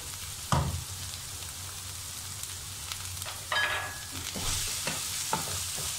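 Butter cooking in a pan for nasi lemak, a soft, low sizzle with a few scraping stirs and clinks of a utensil, fairly quiet and close, with no talking.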